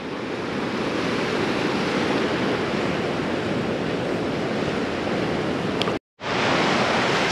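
Surf at a small beach with a few surfers out, a continuous loud roar of breaking waves and wash, with a brief dropout shortly before the end.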